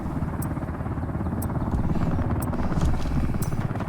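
A helicopter in the video game Ring of Elysium whirs steadily in the distance, a constant rotor drone with faint periodic ticks on top, continuous throughout with no voices.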